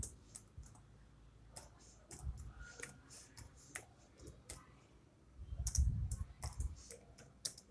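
Typing on a computer keyboard, a series of quick close key clicks in irregular bursts, with a few louder taps and a soft low bump partway through, no voice.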